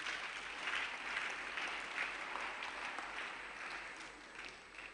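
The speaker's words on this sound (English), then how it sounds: "another round of applause for the professor" Sustained applause from an audience at a diocese's 30th anniversary event, honouring a professor; dense, even clapping from many hands that fades slightly toward the end, with no talking.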